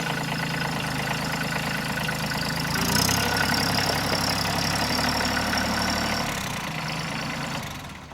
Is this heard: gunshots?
no